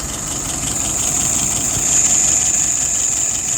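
A WO 596S engine runs steadily just after being started, a close, loud, even idle with a high whine on top and no voices.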